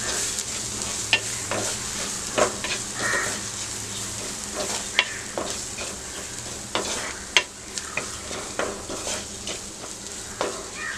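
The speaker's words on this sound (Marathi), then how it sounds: "परतून घेऊया।" Ground spices including turmeric, coriander, cumin, garam masala and red chili powder sizzle and fry with onion and tomato for egg kheema, with steady crackling frying and intermittent spoon-stirring scrapes close by, no talking.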